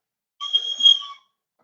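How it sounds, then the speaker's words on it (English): A train conductor's air whistle shrieks once, a shrill sustained blast lasting under a second and standing alone in silence. "Without warning, the conductor's air whistle shrieked next to his ear"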